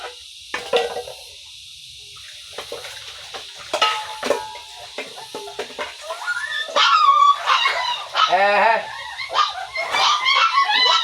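A dog in a home yard barks and yelps in irregular bursts, with honking, goose-like cries and other fowl calls mixed in, moderately close, while people speak intermittently.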